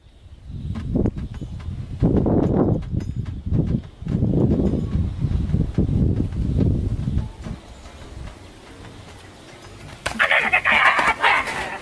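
Village chickens clucking and squawking in short bursts amid frequent rural talk, the birds' calls close and intermittent, ending with a brighter, noisier burst of activity.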